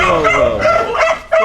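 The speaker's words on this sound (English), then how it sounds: "got 2 more dogs coming in" Several dogs bark and yip in short overlapping bursts at an animal shelter, loud and close, with voices talking underneath.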